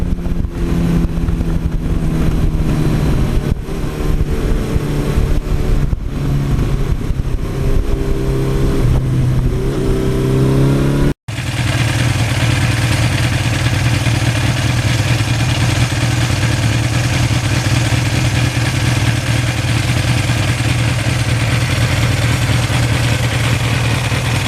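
A 1982 Suzuki GS1100E motorcycle engine runs close by, a steady mechanical idle with a few rev changes early on, then a deeper, constant engine drone after a brief cut.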